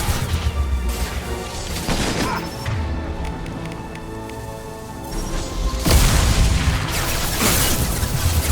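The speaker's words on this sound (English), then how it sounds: "Firing an impact shot." Impact shots fired in a Mass Effect Legendary Edition firefight, landing as heavy crashing booms: one burst early, then a louder cluster of blasts near the end over a steady battle din.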